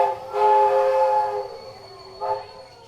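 A heritage diesel train sounds its whistle in two blasts, a long loud tone followed by a shorter one, over a low rumble of the running engine.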